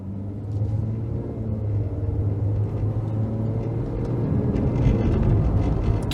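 Ford Fairmont AU sedan accelerating gently from a standstill up to speed on open road, heard from inside as a steady low engine drone and road rumble that slowly builds, with no voices.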